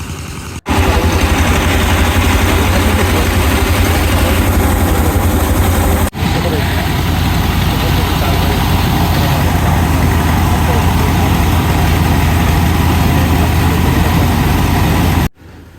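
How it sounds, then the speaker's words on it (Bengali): An engine-driven paddy rice threshing machine runs continuously and loudly nearby, a steady low mechanical drone with a busy rattling texture that holds throughout, interrupted only by brief breaks. "প্রযুক্তি অনেক দূরে এগিয়ে গেছে, কৃষি প্রযুক্তি অনেক এগিয়ে গেছে, তার জন্য এখন খুব সহজে ধান মাড়াই করা যাচ্ছে।"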